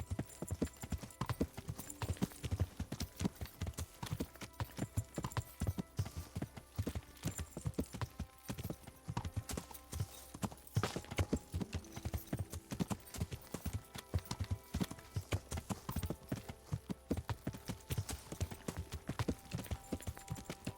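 A horse canters in Kingdom Come: Deliverance, its hooves beating a steady, rapid clip-clop rhythm up close for the whole stretch.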